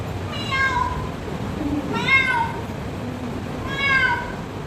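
A human voice imitates a cat, giving three drawn-out meows spaced about two seconds apart over a soft background murmur.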